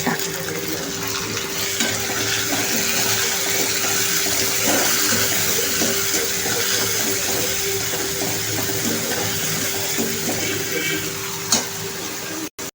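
Finely chopped tomato frying with browned onions for dhaba-style lasuni methi, a steady close sizzle with watery bubbling and stirring under a faint hum, cutting off at the end.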